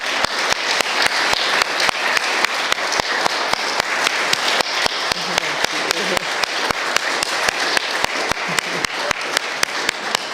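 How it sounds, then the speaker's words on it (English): Audience applause closing a talk on healing with divine light and love: steady, dense clapping from a crowd through the whole stretch, with sharp regular claps standing out above the wash and no voices. "Give me another round of applause."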